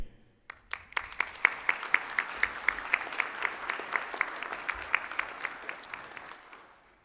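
Clapping at a medical white coat ceremony comes as distinct, evenly spaced claps over a soft bed of quieter applause, steady for several seconds before tapering off.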